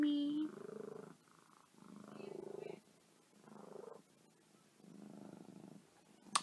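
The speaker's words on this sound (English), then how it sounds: "Also, look at my cat." A pet house cat purring close by, a soft rhythmic rumble that rises and falls in steady cycles with short pauses between breaths.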